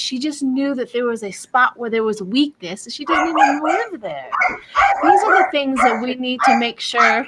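Small dog barking and yipping in the background, intermittent and partly masked, under steady close talk from a speaker.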